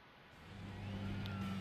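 A car engine in The Crew 2 revs up from quiet to a steadier drone over a short stretch, a smooth rising whine with a low engine hum, fairly faint and without speech.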